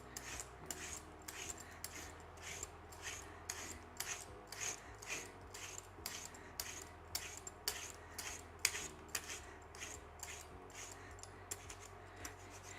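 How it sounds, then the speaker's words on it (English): Parsnips being peeled with a peeler for a puree, a steady run of short rasping scrapes repeating about every half second, close and moderately quiet over a low background hum. "starting with the beginning, peeling the parsnips"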